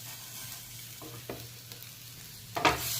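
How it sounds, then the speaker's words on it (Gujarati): Potatoes coated in masala being stirred in a pan, a low steady sizzle with a few soft scraping strokes and a louder clatter near the end, close and quiet. "હવે આને આપણે આવી રીતે હલાવી લેવાનું"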